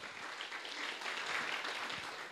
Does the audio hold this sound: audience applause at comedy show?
yes